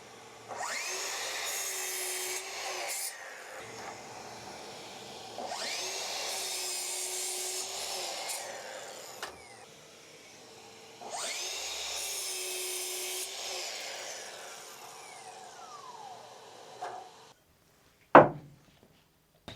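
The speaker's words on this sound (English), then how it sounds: "So we're going to cross cut 36 centimetres off 3 of them. And use the miter saw again because it still has the Freud 48 tooth blade ready to go." A miter saw fitted with a Freud 48-tooth blade makes three cross cuts through wood for a garden screen with a built-in planter, each a rising whine and bite through the board that winds down, followed by a sharp clack near the end.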